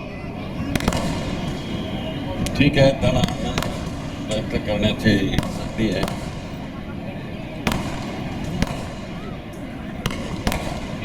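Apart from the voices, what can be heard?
fireworks and firecrackers going off at a speech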